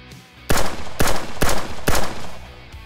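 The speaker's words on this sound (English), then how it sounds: "So you can see how lightly I'm pulling that trigger and it'll fire the weapon." A rifle fitted with a DigiTrigger electronic trigger fires four sharp, loud shots in quick succession at roughly half-second intervals, each a crisp crack with a short decay, close and alone.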